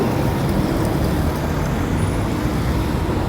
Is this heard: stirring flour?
no